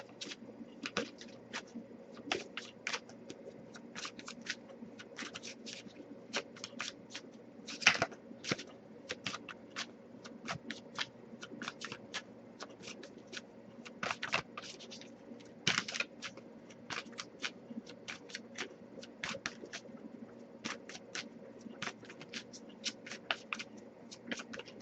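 A deck of oracle cards being shuffled by hand: quiet, rapid riffling bursts and sharp card snaps repeating irregularly over a long stretch, close and soft with no speech.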